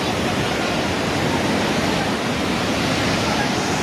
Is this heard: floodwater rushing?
yes